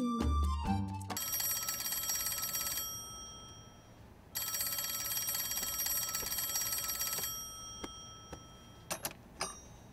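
An electronic telephone rings in two long bursts of bright, trilling tones separated by a short pause, followed by a few faint clicks and taps as the sound dies away.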